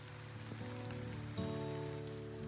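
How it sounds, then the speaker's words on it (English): Light rain begins falling in a subtropical rainforest garden where lemon myrtle and tea plants grow, a soft, steady patter of drops at moderate distance with faint tonal background sound and no talking. "It's starting to rain"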